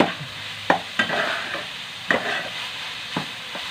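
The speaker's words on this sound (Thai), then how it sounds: "เอาคั่วไปเรื่อย คั่ว" Dried frog stir-fried with holy basil in a pan, with a moderate sizzle and a few distinct scrapes and knocks of the spatula as the mixture is tossed, nobody speaking.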